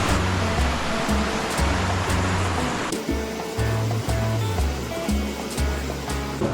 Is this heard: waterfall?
yes